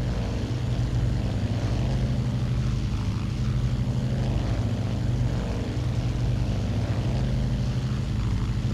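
A Douglas World Cruiser propeller plane droning in flight in a flight simulator game, a steady low engine and propeller hum with rhythmic pulsing, loud and continuous with no talking.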